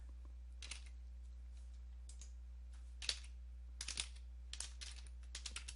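A command is typed on a computer keyboard during a Windows 10 repair, with short clusters of quiet, close key clicks separated by pauses over a low steady hum.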